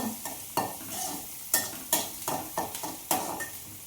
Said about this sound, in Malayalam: അപ്പോൾ നമ്മൾ ഉള്ളിയും പച്ചമുളകും വെളുത്തുള്ളി കേട്ടോ മൂത്ത് വന്നിട്ടുണ്ട് കേട്ടോ